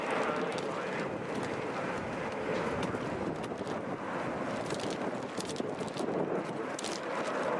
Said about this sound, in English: Taking off here, Delta Airlines Flight 1902, going to Omaha.